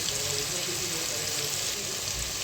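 Tomato frying in a pan with turmeric and spices, a steady broadband sizzle that stays loud and even throughout, close up, with no pauses.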